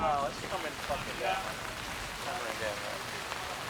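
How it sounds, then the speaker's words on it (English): Heavy rain patters steadily on surfaces during a night film shoot, a dense, even hiss throughout while someone speaks briefly over it. "the consensus is this rain will last 10 minutes"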